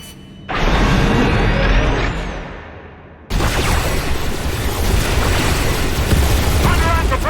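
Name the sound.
ship cannon fire and explosions in Star Wars: The Old Republic video game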